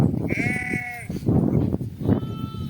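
Sheep and a lamb bleat nearby, a couple of wavering calls rising over steady outdoor background rumble.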